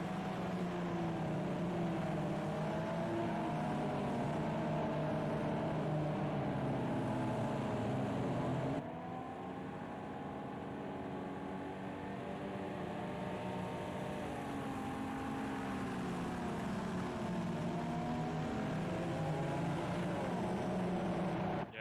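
Vintage GT race cars bunched on the Oschersleben grid in the Project Cars 2 racing game hold a steady, droning engine rumble with shifting revs, a quiet continuous mechanical whine that dips briefly partway through.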